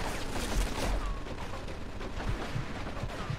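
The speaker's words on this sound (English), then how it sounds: "Looks like we found the machine gun." Machine gun fire in the Mafia 2 video game, with steady rattling bursts and scattered impacts running under a dense, noisy gunfight backdrop for a few seconds.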